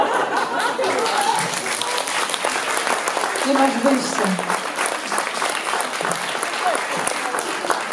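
An audience applauds at a book-signing meeting with someone in the Empik Arkadia store: steady, dense clapping fills the whole stretch, with a voice speaking briefly over it.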